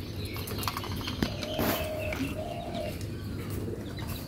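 Pigeons coo softly while being fed and given water, a couple of low hollow coos rising out of steady outdoor background hum, with faint chirps and a small knock nearby.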